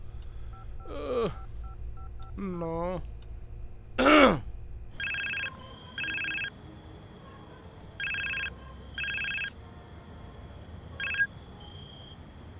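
A phone call to an electronics shop: a voice mutters briefly over a low hum, then a row of touch-tone dialing beeps, followed by spaced, repeating electronic ring tones, clear and close.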